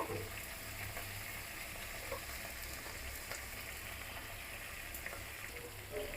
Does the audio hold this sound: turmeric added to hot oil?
yes